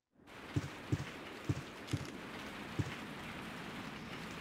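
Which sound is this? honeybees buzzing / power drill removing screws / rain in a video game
rain in a video game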